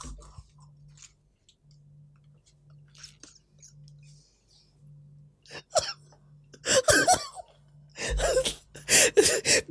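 An older man coughs during a debate: a quiet stretch with faint hum breaks into several loud, harsh coughing bursts near the end, close and alone.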